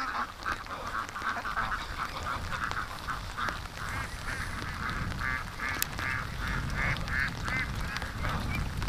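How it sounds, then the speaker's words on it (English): A group of panicked ducks quacks repeatedly in quick, uneven bursts, near and fairly loud, over the wash of heavy rain coming down outdoors. "the ducks were trying to come home"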